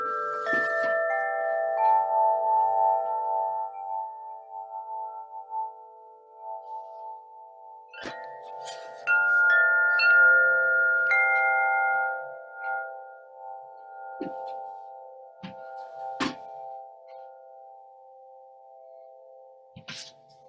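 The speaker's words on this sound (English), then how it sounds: "this is called a flow chime, and it sounds like this" A flow chime rings out in long sustained metallic tones, layered overtones swelling and overlapping, with a second round of strikes midway and a few sharper pings near the end, played alone with no talk.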